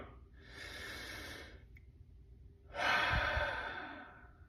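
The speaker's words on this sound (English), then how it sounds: "I have a routine I go through, and it involves some deep breathing" Two deep breaths close to the microphone, each a long, airy inhale-exhale cycle, with the second louder and ending in a sighing release, in a quiet room with no talking.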